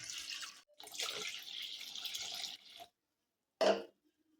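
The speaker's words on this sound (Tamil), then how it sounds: "இப்போ நம்ம இதில் மாவு எடுத்த அதே கப்லேயே ரெண்டு கப் அளவுக்கு தண்ணி சேர்த்துக்கலாம்" Water pours steadily for a couple of seconds, then stops, followed after a pause by a short splash or clatter.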